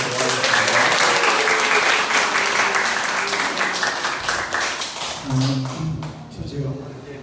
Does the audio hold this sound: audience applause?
yes